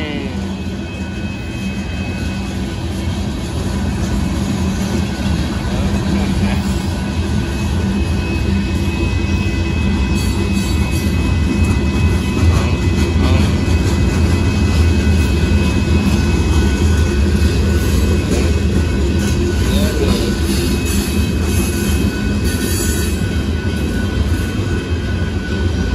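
Southbound Amtrak Texas Eagle passenger train and northbound Union Pacific gravel and hopper car freight train passing, a loud continuous rumble of engines and rolling cars lasting throughout, with a faint voice at times.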